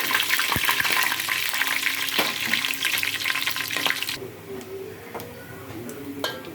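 Ingredients for Hyderabadi dum biryani mixed in a hot frying pan, a loud hiss with stirring scrapes that drops abruptly to a quieter simmer with occasional clinks.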